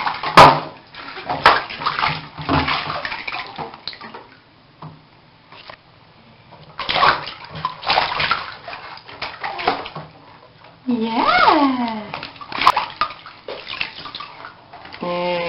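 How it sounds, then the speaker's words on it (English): Water splashes and sloshes in a bathtub as a child's hair is rinsed, in irregular bursts up close, with people talking and a brief high-pitched vocal squeal between the splashes. "Rinse your hair."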